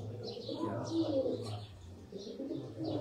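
Sialkoti pigeons on a rooftop loft, soft low cooing repeating in gentle rhythmic phrases, close and quiet, with faint chirps in the background.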